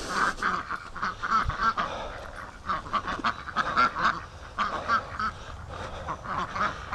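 Ducks quacking and honking near a lake, a busy chorus of overlapping calls that carries on steadily at moderate volume with no voices.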